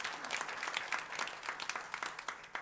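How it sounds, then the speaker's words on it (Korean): Steady applause from a church congregation during a Sunday service, a dense patter of many hands clapping at an even level throughout, with no voices. "박수로 환영합니다."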